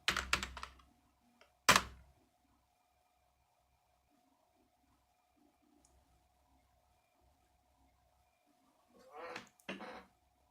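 Quick bursts of computer keyboard typing while entering a command for calibrating drone ESCs on a Raspberry Pi, with a sharp key press after a pause and another short typing flurry near the end, close and crisp over a faint hum.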